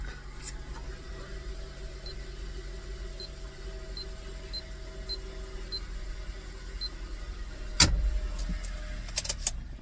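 A 2009 Honda CR-V engine idles after a valve adjustment, a steady low hum close by, with a few faint clicks and a sharp knock near the end.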